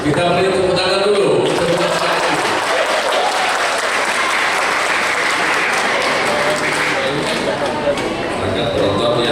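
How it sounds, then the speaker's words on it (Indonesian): Dense, steady applause from an audience at a Fahmil Qur'an quiz competition (MTQ) in Banda Aceh, loud and continuous for about nine seconds, with faint voices mixed into the clapping. "Kita beri tepuk tangan dulu."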